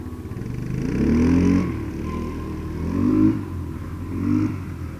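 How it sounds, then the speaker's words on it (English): A four-wheel-drive farm vehicle with a broken drivetrain revs and labours in a loud low engine drone, rising in a few surges and falling back, with no talk. "Something's broke on the four-wheel drive on that though. It makes a hellacious noise when you turn left."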